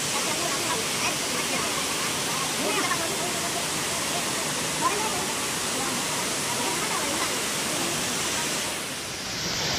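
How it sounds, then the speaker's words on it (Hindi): Nidhan waterfall near Katangi, Jabalpur, heard as a steady, dense roar of falling water that fills the whole clip at constant loudness, softening slightly near the end, with no speech over it. "झरना की आवाज आ रही है"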